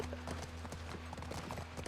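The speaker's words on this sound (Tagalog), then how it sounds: "Ang cool ng pag-ride ng kabayo." Horse hooves clip-clop at a steady trotting rhythm while riding in The Last of Us Part 1, close and continuous over a low rumbling background.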